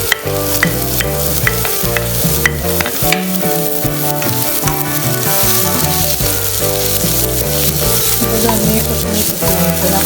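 Onion frying in a little oil for a sweet and sour fish dish, a loud, close, continuous sizzle with frequent stirring scrapes throughout and no talking.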